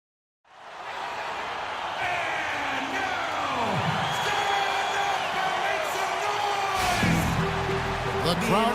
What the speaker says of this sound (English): the crowd is assembled at the Air Canada Centre, looking for a Raptors victory here in Toronto